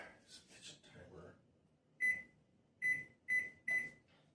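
A kitchen timer beeps four times in short bursts, with a pause before the last three come close together, after low speech earlier in the scene. The beeps are clear and moderately loud indoors.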